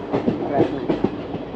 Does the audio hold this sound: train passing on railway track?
yes